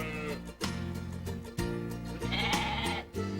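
Sheep on a farm bleating in several close, loud, wavering calls, one after another with brief gaps, with no talk over them.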